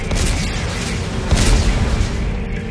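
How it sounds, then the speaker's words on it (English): A detonation goes off in the sci-fi horror game Dead Space 3, a loud, continuous rumbling blast that stays dense and heavy for a few seconds with no voices. "And detonate."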